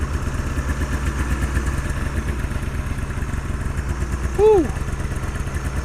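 An old Ski-Doo snowmobile, smoking after sitting all summer, runs with a steady, loud, rumbling two-stroke idle throughout, with a man's short excited whoop rising over it near the end.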